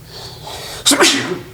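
A single sharp human sneeze breaks out suddenly over a low room hum, loud and close, with no talking during it.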